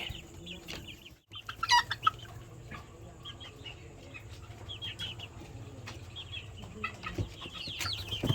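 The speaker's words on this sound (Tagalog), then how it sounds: "Yan magaganda po yung mga manok natin na game fowl." Game fowl chickens clucking and calling intermittently in a farmyard, with scattered bird chirps and a low steady hum beneath.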